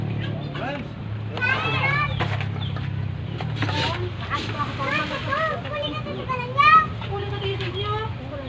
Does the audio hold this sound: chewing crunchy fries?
no